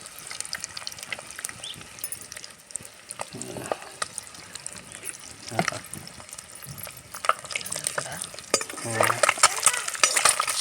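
Boiled eggs fry in a pan with chilli powder and masala, giving a soft, steady sizzle broken by the clinks and scrapes of stirring that grow busier near the end, fairly quiet throughout.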